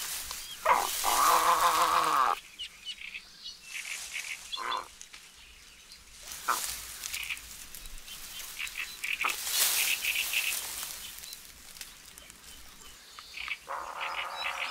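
Purple herons at a reed-bed nest during a changeover give harsh, croaking, guttural calls in bursts, loud and close, with some grunting rasps between them over a faint wetland background.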